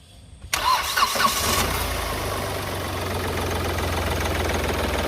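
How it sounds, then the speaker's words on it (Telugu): A 2017 Hyundai Grand i10 diesel car cranks briefly and fires, then settles into a steady, close diesel idle with a low rumble that continues to the end. "ఇప్పుడు ఒకసారి ఇంజిన్ సౌండ్ అయితే ఎలా ఉందో ఒకసారి చూడండి."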